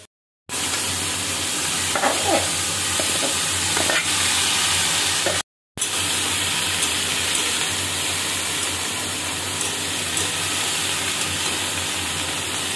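Boiled figs fry in a spiced oil tempering, giving a loud, continuous close-up sizzle and hiss with a few stirring scrapes; a brief silent break interrupts it near the middle.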